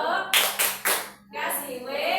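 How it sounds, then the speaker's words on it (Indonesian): A group of people clapping in rhythm at a class gathering: three sharp claps, then a brief pause before a longer stretch of clapping, with voices calling out over it. "Kasih tepuk buat Bu Herlin, tepuk, wow."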